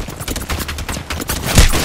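Rapid automatic gunfire from an Apex Legends firefight rattles in dense bursts, with a sharper, louder shot cracking near the end.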